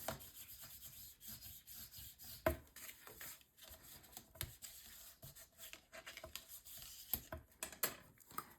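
A paper piece is burnished down onto the edge of a mini album flap by hand, giving quiet, close rubbing strokes in an uneven rhythm, with a few soft taps mixed in.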